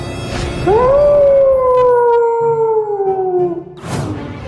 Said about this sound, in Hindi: अरे ये भेड़िया कहाँ से आ गया?